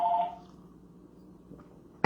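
A home landline telephone rings once at the start, a short electronic trill that fades into quiet room tone, with a sharp bump at the very end.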